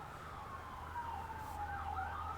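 An ambulance siren wails in a slow rising and falling tone, steady and fairly distant, over a low background hum with no talking.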